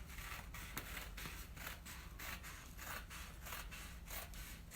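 Scissors cutting through fabric backed with iron-on paper, a steady run of close, crisp snips and rasping slides repeating in quick rhythm with no talking.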